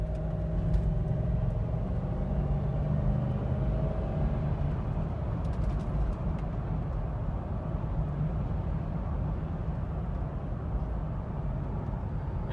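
A 2003 Lexus GX470 SUV driving, heard as a steady low road and engine rumble from inside the cabin, smooth and continuous with no talking.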